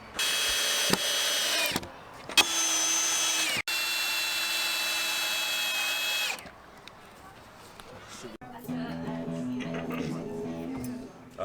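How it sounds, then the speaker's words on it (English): A power drill drives screws through wooden planks into supporting tires outdoors, with several loud whirring bursts separated by short pauses, then quieter clunks and handling noises near the end. "we went on to screw all of the planks to the tires that are supporting them to secure them in place"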